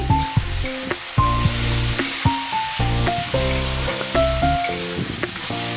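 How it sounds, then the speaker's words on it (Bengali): Street-style egg chowmein noodles sizzle hard in a hot pan as vinegar goes in, a steady close hiss and crackle running throughout with music playing underneath. "একটু ভিনেগার দিয়ে দিচ্ছি"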